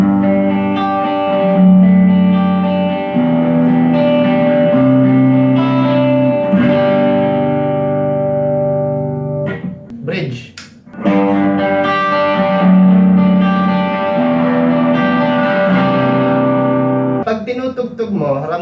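Gibson Les Paul Studio on the middle pickup, played clean with a slight edge of grit, chords ringing and sustaining, a brief pause midway, then more strummed chords.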